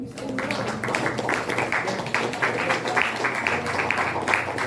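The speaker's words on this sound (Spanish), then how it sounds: "Dale ese aplauso al Señor." Congregation at a Spanish-language church service applauds, a dense steady patter of many hands clapping that holds for several seconds at moderate loudness.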